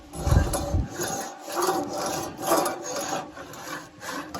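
A cleaning brush scrubs the grate of a Super 55 drum smoker in rhythmic back-and-forth strokes, a close, raspy scraping that rises and falls with each pass.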